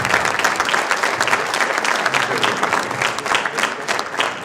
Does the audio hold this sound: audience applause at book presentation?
yes